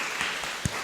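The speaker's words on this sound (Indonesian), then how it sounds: "Kita beri tepuk tangan sekali lagi." A congregation applauds during a Sunday Advent church service, a brief burst of steady, diffuse clapping at moderate volume.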